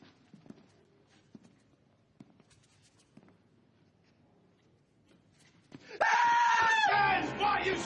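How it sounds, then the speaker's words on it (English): Several men scream loudly and suddenly in a film scene, bursting in near the end after a stretch of quiet shuffling and small knocks. "why are you screaming like a goddamn little girl?"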